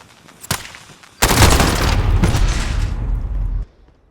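Rapid MP5 submachine gun fire in a video game, one short shot followed by a sustained automatic burst of about two and a half seconds, loud and close, then abruptly stopping.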